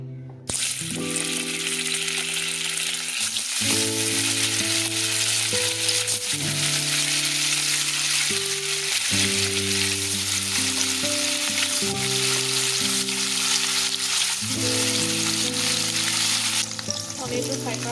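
Paneer sizzles steadily in hot mustard oil in a kadai, a dense, continuous frying hiss lasting the whole stretch with melodic background music layered underneath and no talking.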